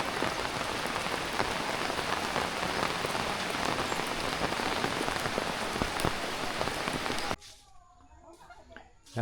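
Morning rain pours steadily on surfaces in a rural farm setting, a dense, loud, close hiss of drops that cuts off abruptly near the end, leaving quieter ambience.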